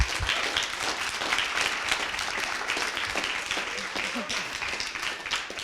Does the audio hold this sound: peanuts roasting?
no